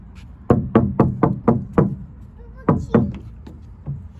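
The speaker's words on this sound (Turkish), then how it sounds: "ben kapıyı çalayım bir dakika" Knuckles knock on a door, first a fast run of six firm raps, then after a brief pause a second run of about four, close and loud.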